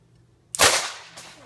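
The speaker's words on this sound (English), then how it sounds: "Here's Bailey shooting the tater gun." A homemade potato gun fires once with a sharp, loud pop close by, followed by a fading rush of air and a faint second click.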